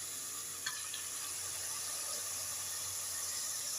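Chopped onion fries in a pan with oil, giving a soft continuous sizzle that holds steady at low level, with a faint utensil clink near the start.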